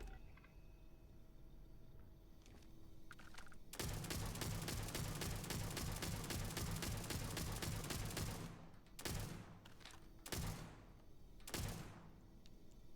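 An unsuppressed AA-15 rifle in Starfield fires a rapid sustained burst of loud close gunshots, then a few separate single shots punctuate the quieter game ambience.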